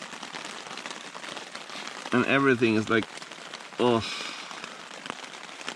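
Steady rain pours down on a wet, cold stretch of the European Divide Trail, a constant hiss through the whole stretch, with a person speaking briefly over it twice.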